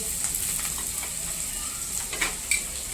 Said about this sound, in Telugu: అన్నీ ఒకేసారి వేసి వేయించుకోవచ్చండి. ఒక్కొక్కటి అవసరం లేదు.